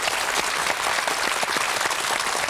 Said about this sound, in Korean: 힘찬 박수 한번 주셨으면 고맙겠습니다